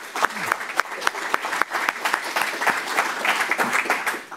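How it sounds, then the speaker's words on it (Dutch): Audience clapping at a lecture on emotional nationalism and populism, fairly loud and close, with distinct individual claps over a steady crowd patter. "Als u met me mee wilt klappen"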